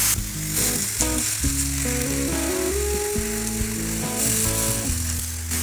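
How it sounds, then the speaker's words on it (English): Thin smash taco burgers cooking meat side down on a hot griddle, giving a loud, steady, close sizzle broken by scraping and tapping of a metal spatula. "go meat side down, and we're just going to let these cook."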